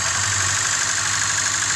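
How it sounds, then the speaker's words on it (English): A car engine idles steadily during a cylinder balance test, a close, constant hum with a low throb and no change in pitch. "as you can hear, there's no drop in the engine's RPM"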